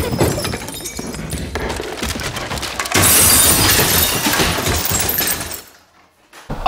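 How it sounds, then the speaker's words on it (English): Glass shattering and crashing from pictures falling off a wall in the horror film The Conjuring, a loud sustained burst of breaking and clinking over a dense soundtrack that cuts to near silence before a final hit. "Then the pictures all fall off the wall."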